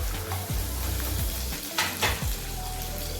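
Ginger and chilies sauté in a hot pan for a coconut chammanthi, a steady close sizzle and crackle broken by a few scraping stirs of the spatula.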